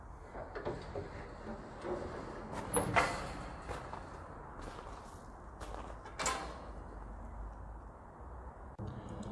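Heavy lockable rear cage doors on a Ford Transit cage tipper van swing open with creaks, clanks and latch knocks, several separate bumps spread over a few seconds against a steady outdoor background.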